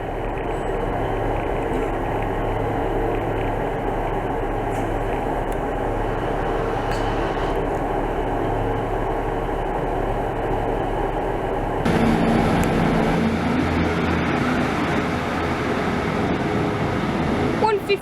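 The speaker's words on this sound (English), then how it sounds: "You can see some trams in the distance." Manchester Metrolink tram passing near the Deansgate Castlefield stop, a steady rumbling rail roar with wind and outdoor hum, swelling louder toward the end, heard from a walkway at some distance.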